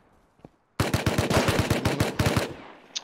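Rapid automatic gunfire from a firefight in the survival game Rust, about fifteen sharp shots in a steady burst lasting under two seconds, loud and close, with a faint tap before and a brief clink after.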